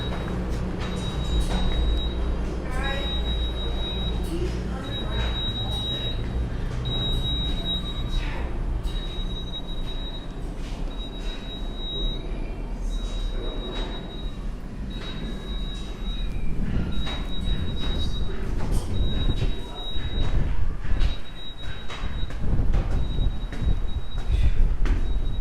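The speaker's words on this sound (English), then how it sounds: "So that's the path train that goes to New Jersey." A PATH train bound for New Jersey rumbles through an underground station, with wheel squeal, metallic clatter and a steady rolling roar, plus a repeating high electronic tone, over about 25 seconds.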